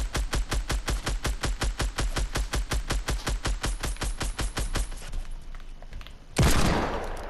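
Rapid, loud automatic gunfire from a Fortnite Battle Royale match on PS4, a steady stream of evenly spaced shots for about five seconds, then a pause and a sudden harsh burst near the end.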